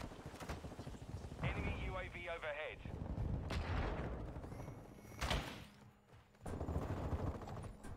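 Gunfire in a multiplayer shooter video game comes in bursts of shots and thuds, with a grenade nearby, mixed with game voice lines and a player talking over the action.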